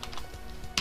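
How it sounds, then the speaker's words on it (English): Someone types on a computer keyboard at close range, a short patter of soft key taps ending in one sharper click, with no voices. "I can't type today."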